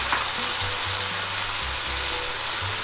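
Onions and peeled, seeded, chopped tomatoes fry in a pan for moussaka, giving a loud, steady sizzle with soft stirring bumps throughout.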